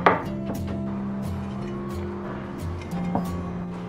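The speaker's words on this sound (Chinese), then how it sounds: "接着我们再给它切成细丝。" A kitchen knife slices taro into thin shreds on a cutting board, giving repeated quick chopping taps at close range over a steady tonal background hum.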